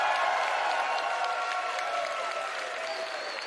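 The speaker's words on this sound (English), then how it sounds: "Please give a big round of applause for" Steady applause and cheering from a large esports crowd at a Super Smash Bros. Ultimate Invitational tournament, honoring second place finisher MKLeo; dense, continuous clapping with scattered shouts that eases slightly toward the end.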